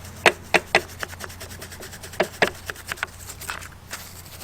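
A small brush scrubs a vintage Duff Norton 5-ton jack in a run of short, crisp strokes, some bursts louder than others, close up with no talking.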